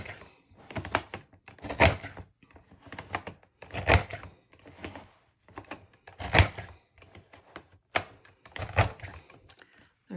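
A handheld paper punch works along the edge of a page in a holder with matching notches for scrapbooking, giving repeated crisp thunking clicks in steady bursts about every two seconds, close and fairly loud with quieter handling noise between.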